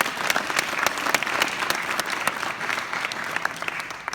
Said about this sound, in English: let's give another nice round of applause